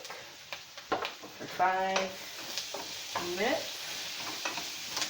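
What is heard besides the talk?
Brussels sprouts with ginger cooking in a pan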